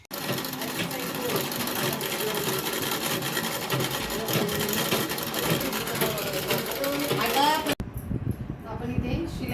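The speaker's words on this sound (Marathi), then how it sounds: "ही जी ओपन साईड आहे त्या साईडला आपण दोन्ही साईडला शिलाई मारून घेतल्या आहेत" A sewing machine stitching a cushion cover, its needle running in a fast steady mechanical rattle close by, ending abruptly near the end, with a voice talking over it.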